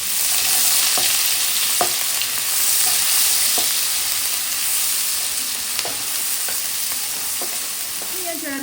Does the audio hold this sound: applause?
no